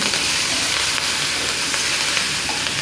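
Green chilies and curry leaves crackle and sizzle in hot oil that already holds fried cumin, a close, steady, dense frying hiss with small pops throughout, no talking, while cooking tomato gothsu.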